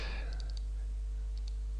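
Computer mouse clicks while working in SketchUp: a quick burst of three light clicks, then two more a moment later, crisp and close against a quiet background.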